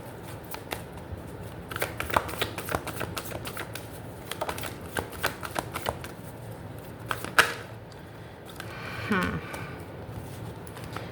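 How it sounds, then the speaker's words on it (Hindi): Tarot cards shuffled and drawn by hand during a future-spouse reading, giving a run of soft, uneven riffling clicks and snaps with a few sharper flicks, near and moderately loud over faint room noise. "सबसे पहले हम यहाँ से कार्ड निकालेंगे।"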